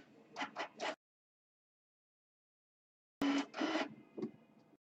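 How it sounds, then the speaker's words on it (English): A printer runs at a baseball card break, giving two short bursts of three or four rapid mechanical pulses separated by silence, close and fairly clear with no talking. "Printer, what are you doing?"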